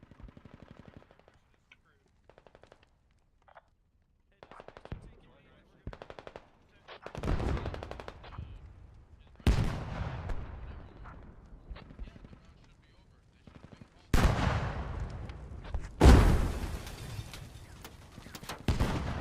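Gunfire in the military shooter Squad during an organized tank-battle event: bursts of automatic fire and heavy shots, some close and loud, others distant, build in intensity, with voices at times.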